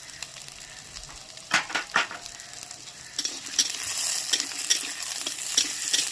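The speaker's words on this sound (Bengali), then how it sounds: "পেঁয়াজটা দিয়ে দিলাম সব একসাথে ভাজবো" Chopped onion fries with potato and radish in a pan. A few sharp scrapes come first, then the sizzle swells into a steady, moderately loud crackle with light stirring clicks and no voices.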